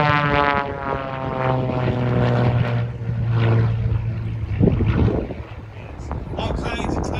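Propeller aircraft passing at an airshow, a loud droning engine with a shifting pitch as it goes by, mixed with wind buffeting on the microphone and a voice talking over it.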